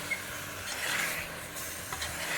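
Garam masala being stirred into a simmering chicken curry in a pan, a steady scraping rub with a soft sizzle underneath, close and continuous, with no voices.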